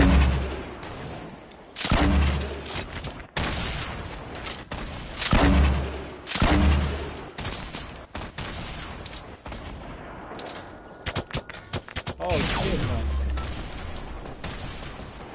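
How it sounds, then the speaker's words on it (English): Grenades go off in a video game: a string of sharp, loud blasts, each with a deep rumbling tail, spaced irregularly across the stretch, with some quieter crackle between them. "they got grenades on my ass"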